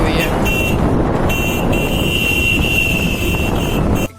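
Road traffic at a jam on a market route in India, with a steady close roar of engines and wind rushing past a riding microphone, plus a thin high whine drifting in and out; no voices.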